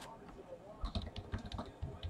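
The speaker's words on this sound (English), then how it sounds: "let's get back to typing" Fast, close typing on a computer keyboard during a baseball card case break, with rapid irregular key clicks under faint background talk.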